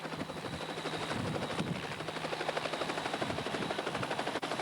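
Hughes 500 helicopter flying at the Warbirds Over Wanaka airshow in New Zealand, 1992, its rotor throbbing in a fast steady chop with a turbine whine, fairly close and loud throughout.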